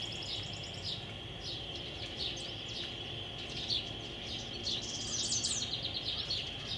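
A male house wren sings faintly in the background, quick bubbling chirpy phrases repeating over a steady high insect buzz and low outdoor hum, with no talking.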